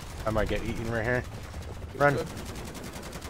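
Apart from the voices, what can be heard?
automated turrets firing guns in a zombies video game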